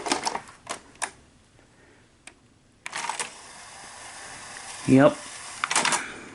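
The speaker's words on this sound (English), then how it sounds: "now I think we'll be able to insert a tape, and it should rewind now" A Sanyo 7500 video tape recorder rewinds a tape: a few mechanical clacks, then a steady close whirring hum of the tape transport that runs to the end, with one brief spoken word over it.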